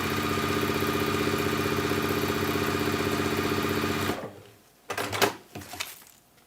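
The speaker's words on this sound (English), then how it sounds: "I'm just going to sew the bits that I had just sewn, or so I had thought, but without any kind of thread." Sewing machine run without thread in a craft workshop, a steady loud mechanical whir and rapid stitching hum for about four seconds, then stopping, followed by a few brief clunks and handling knocks.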